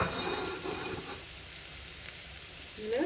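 Leeks sizzle in a hot pan with onion and green chili, a bright frying hiss that is loud at first, then settles to a softer crackle before a brief stir near the end; no one speaks.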